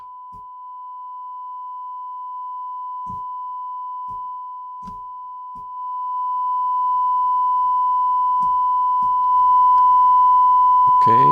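A steady pure 1 kHz test tone holds at one pitch throughout, fed into an LA-2A compressor, with a brief spoken word and a few soft clicks and thumps underneath, getting slightly louder later.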